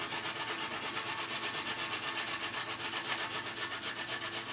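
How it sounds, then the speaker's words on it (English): Fresh ginger rubbed over a grater into a frying pan, a steady rhythmic rasping scrape repeating fast and close, fairly quiet and continuous with no talk. "we've grated the ginger now into the pan"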